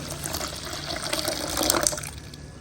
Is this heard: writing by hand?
no